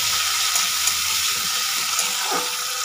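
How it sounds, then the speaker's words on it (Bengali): Chopped tomato frying in a pan during a home Bengali bottle gourd and paneer curry, giving a steady, close sizzling hiss with faint stirring and no voices. "এবার টমেটোটাকে একটু আমি ভেজে নিচ্ছি।"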